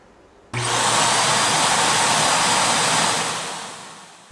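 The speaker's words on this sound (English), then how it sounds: "it will make its way back to the base station, dock, and then Starting charging. Emptying the dustbin." An Ecovacs DEEBOT N8 Pro+ base station kicks on abruptly to suck out the docked robot vacuum's dustbin. A loud, rushing suction roar holds steady for a few seconds, then begins to taper off, with no talk.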